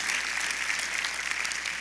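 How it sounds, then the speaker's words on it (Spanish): A church congregation applauding together, dense and steady clapping that fills the space for the whole moment without any pause. "Un aplauso a Él"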